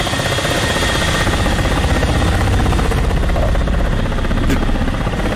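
Ka-50 Black Shark attack helicopter in the DCS flight simulator, its engine and coaxial rotors droning loud and steady with a fast, even rotor thrum and constant turbine whine, no voices.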